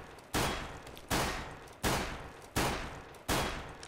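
Glock pistol fire in CS:GO while jumping: five sharp, evenly spaced shots, each decaying quickly before the next, loud and close with no talking.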